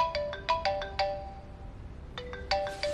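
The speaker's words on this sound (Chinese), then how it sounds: "高俊这么忙的人，怎么能随时随地接电话" A phone ringtone rings unanswered in a repeating electronic melody of bright chiming notes, two bursts separated by a short pause, fairly clear over a quiet room background.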